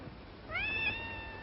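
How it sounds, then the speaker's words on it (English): A cat gives a single clear, rising-then-falling meow, fairly quiet, against faint background hiss in an evening indoor scene, with no talking. "Nice, kitty."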